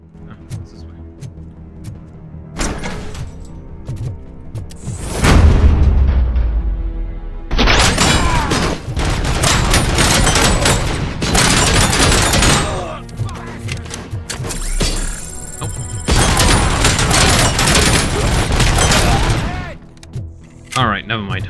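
Bursts of gunfire in the Robocop game against mercenaries hammer out in long dense stretches, loud and close, broken by pauses and a heavy boom, with someone talking over parts of it.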